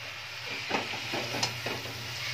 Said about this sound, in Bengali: এবার মশলাটার সাথে শাকটাকে প্রথমে ভালো করে একটু নাড়াচাড়া করে নিচ্ছি।